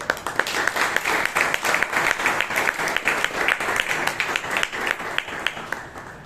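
Audience applause fills a Toastmasters club meeting in Bangalore, steady dense clapping from a room of people lasting the whole stretch, with a few sharper individual claps standing out near the front.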